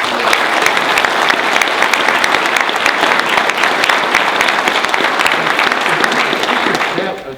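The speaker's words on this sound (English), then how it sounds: "I'd like to give all of them a round of applause" A Chamber of Commerce audience gives a sustained round of applause, dense and even clapping throughout, loud and close, tapering slightly at the very end.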